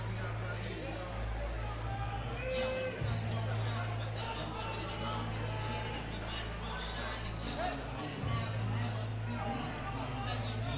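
Crowd at a women's boxing event: a steady murmur and babble of spectators fills the arena throughout, with scattered shouts and a continuous low hum under it.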